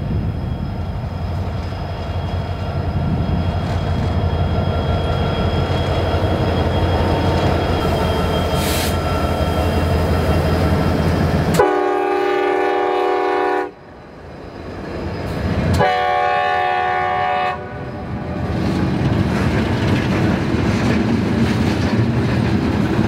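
A CSX freight train carrying steel rumbles past close by on a curve with steady wheel noise, then its horn blares in two long, loud blasts over the rolling cars.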